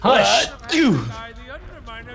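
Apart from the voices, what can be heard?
human sneeze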